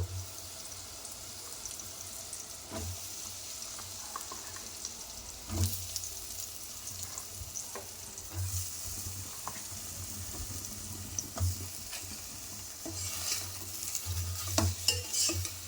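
Chopped bottle gourd pieces drop into a pan with oil and turmeric and get stirred, a moderate sizzle broken by repeated scraping and clattering of a spoon against the pan, louder bursts near the end, no voices.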